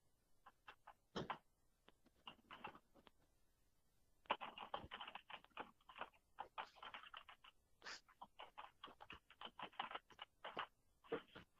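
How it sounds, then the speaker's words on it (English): Soft typing on a computer keyboard, quiet clicks in uneven bursts with short pauses between them, heard alone without any talking. "Someone's typing away."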